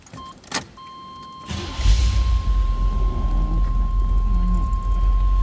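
A steady chime and a click, then a 1978 Chevrolet Corvette Pace Car coupe engine cranks and catches, settling into a deep, rumbling idle that keeps running close by.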